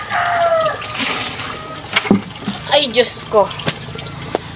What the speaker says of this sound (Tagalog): Nagpupuno lang ako ng tubig.